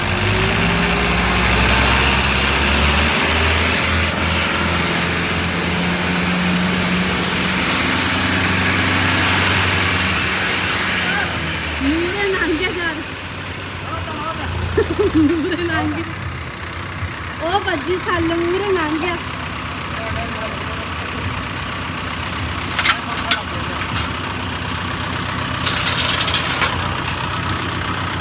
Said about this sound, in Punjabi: ਦੋ ਟਰੈਕਟਰ ਨਾਲ ਇਸ ਤਰ੍ਹਾਂ ਕੰਮ ਚੱਲਦਾ